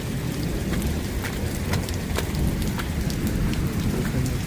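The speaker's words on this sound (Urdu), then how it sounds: "یہ دیکھیں وہی سین ہے، کانسٹنٹ بارش، کانسٹنٹ قسم کی لائٹنگ ہے" Extreme cloudburst rain pours down at 2 am in Pothwar, a dense, steady, close roar of heavy rain hitting surfaces, with a low rumble of thunder running beneath it throughout.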